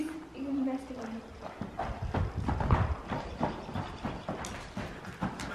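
Horses shuffle and clop over ground with hoof thuds and movement, while people talk and a horse briefly whinnies.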